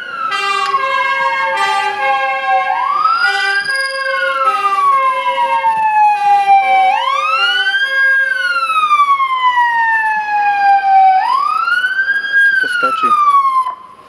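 Fire engine siren wailing loudly and continuously at an accident scene during a firefighters' day event in Pezinok, rising and falling in long sweeping cycles with a layered second siren tone, close and dominant throughout.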